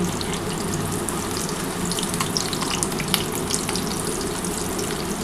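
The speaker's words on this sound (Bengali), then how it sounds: "যেটুকুনি তেল আছে এই তেলের মধ্যেই কিন্তু ভাজার চেষ্টা করছি" Katla fish roe fritters fry in a shallow layer of hot oil, giving a dense, steady sizzle with fine crackling pops that holds at an even, fairly loud level throughout.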